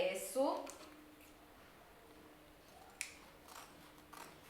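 Scissors snip excess lining fabric over foam while a corset is sewn, a few close, soft cuts after a brief voice, then quiet.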